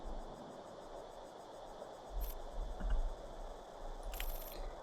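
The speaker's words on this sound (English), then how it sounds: "The sound of cicada, Elodie." Cicadas chirping in a quiet forest from a video game, a steady buzzing drone throughout, with a few soft scrapes and low thumps near the middle and no speech.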